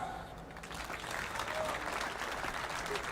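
Outdoor audience applause fills a town square during a festival stage show in Quartu Sant'Elena, a steady dense clapping from a large crowd that holds throughout.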